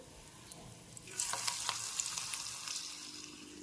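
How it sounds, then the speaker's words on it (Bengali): Coriander leaf pakoras fry in hot oil, a faint continuous sizzle that grows a little busier partway through, with light stirring crackles. "এখন তুলে নেওয়ার পর বাকি পকোড়াগুলো ভেজে নিচ্ছি আমি"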